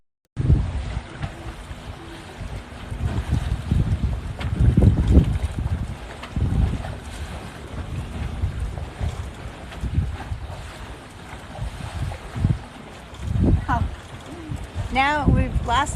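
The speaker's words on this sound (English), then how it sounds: "we're going to be doing some pretty much maybe wing on wing downwind sailing, and that's great on a catamaran" A catamaran sails wing on wing downwind, with steady wind buffeting the microphone and a low rush of water along the hulls, while a person talks over it.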